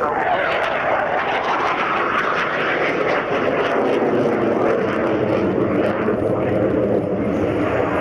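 Aero L-159 jet aircraft at the Navy Yeovilton 2015 airshow, a loud, continuous roar of engine noise holding steady for the whole stretch, with no talk over it.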